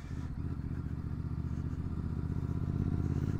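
A Royal Enfield GT 650 motorcycle engine runs close by with a deep, rapid, steady thump that rises slightly in loudness toward the end, with no talk.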